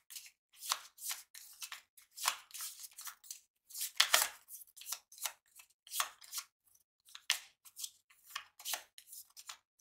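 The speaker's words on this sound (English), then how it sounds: "We'll shuffle our discard pile." A discard pile of playing cards from the board game Legendary: Champions is shuffled close up, giving quick, soft papery riffles and flicks in an irregular run of short bursts, with no talking.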